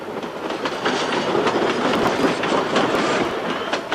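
A train rumbles steadily past at close range in Peru's Urubamba valley, wheels clattering over the rails in a continuous loud roar.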